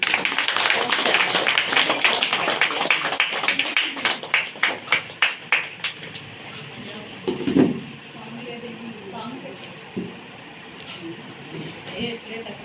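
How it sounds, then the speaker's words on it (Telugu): An audience claps in a rhythmic, fairly quick unison beat that gradually thins and fades out, followed by quieter room noise with a brief faint voice. "చప్పట్లు కొట్టరా?"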